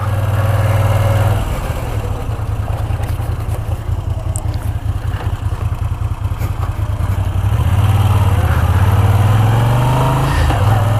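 Moto Guzzi V7iii Special motorcycle under way on a rough road, its low engine drone steady and prominent with a few pitch shifts as the revs rise and fall, wind rushing over it throughout.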